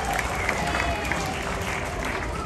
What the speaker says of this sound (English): give the tarantula a little bit more of an applause